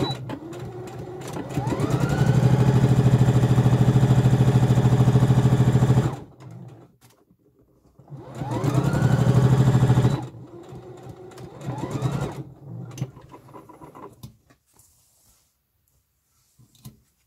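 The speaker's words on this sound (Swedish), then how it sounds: "Och så syr jag den." Sewing machine stitching a corset, a steady mechanical whirr in two long runs with a pause between, then a shorter burst of stitching before the sound stops.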